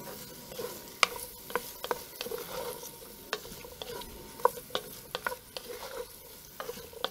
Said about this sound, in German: Dann geben wir die Kartoffeln dazu. Braten die auch mit an, rühren alles gut durch.